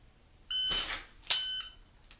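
Two short electronic shot timer beeps sound, each followed by a sharp gunshot bang, then a fainter third burst; fairly quiet overall.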